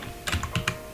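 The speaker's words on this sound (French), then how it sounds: "J'ai un clavier qui est très rapide." Quick keystrokes on a fast computer keyboard, a short burst of three or four crisp clicks close to the microphone, alone without speech.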